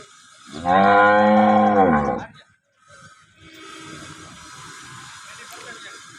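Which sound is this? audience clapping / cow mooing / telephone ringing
cow mooing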